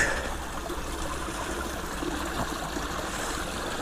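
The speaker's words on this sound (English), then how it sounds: "it's a tiny stream anyway" A tiny Dartmoor stream near Widecombe in the Moor babbles over rocks in a steady, close trickling and gurgling wash, with no voices.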